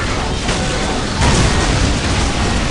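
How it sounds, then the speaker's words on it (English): A grenade explodes in the Warhammer 40,000: Dawn of War strategy game. A loud, dense burst swells midway through over continuous battle rumble, with no clear speech. "Let the grenade fly."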